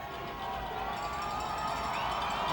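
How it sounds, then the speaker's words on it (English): A home crowd at a high school football semifinal, North Haven against Wethersfield, roars and cheers in a dense, sustained wash of voices, growing slightly louder, with a faint whistle-like tone above it. "Again, the Indians crowd going bonkers."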